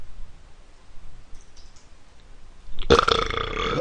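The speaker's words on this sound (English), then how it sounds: "That was a nice burp, by the way." A single loud, rough burp bursts out near the end after a quiet stretch, close to the microphone.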